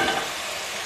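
Papaya, potato, carrot and cauliflower fry with spices in a pan as a dense, steady hiss, close and moderately loud through a brief moment, with no voices.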